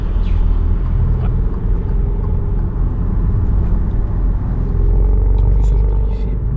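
An Alfa Romeo Stelvio engine rumbles steadily at close range, with a few sharp exhaust pops breaking through near the end; someone talks over the drone.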